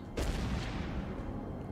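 Cannon fire hits troops in the Total War: Warhammer 2 video game: one sharp boom breaks out, then a rumbling, crackling tail of impacts slowly fades.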